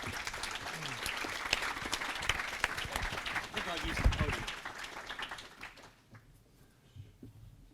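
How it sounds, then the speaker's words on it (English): Audience applause for a guest at a live talk-show style event, dense clapping with voices mixed in, swelling around the middle and then fading away near the end. "Give it up again for Ladar Levison."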